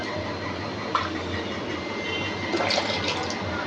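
Water pours steadily into a pan of raw mango saar, a constant close liquid rush with a faint low hum beneath and a couple of small splashy accents.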